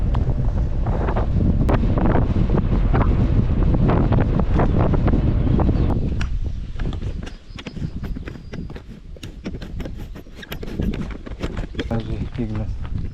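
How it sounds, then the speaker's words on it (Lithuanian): Gusty wind on a rainy summer day buffets the microphone with heavy rumbling, strongest early then easing into intermittent gusts, with people speaking. "Šiek tiek vėjota, nupučia"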